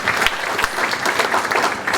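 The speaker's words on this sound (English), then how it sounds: "please, a round of applause for the families and parents making this all happen" Families and parents at a school spring concert give a round of applause, dense, even clapping from a full audience filling the whole moment.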